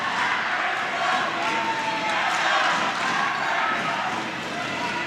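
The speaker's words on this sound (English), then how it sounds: "BG crowd coming alive." A volleyball crowd cheers in an indoor gym, a steady wash of noise that holds at an even level throughout, with squeaks and bounces mixed in.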